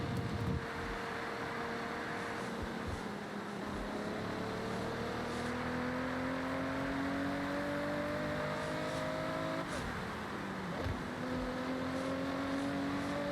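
A car driving in Forza Horizon, played on a Logitech G29 wheel, engine droning steadily with rising and falling pitch as it shifts through gears, plus a steady rush of wind and road noise.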